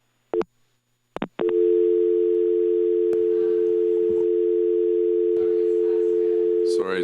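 An electronic telephone tone sounds during an Ottawa City Council meeting: a few short beeps, then one loud, steady, unbroken tone that holds for several seconds.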